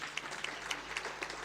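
A brief burst of audience applause at a government G20 seminar, steady overlapping hand claps in a room, fairly quiet and with no speech over it.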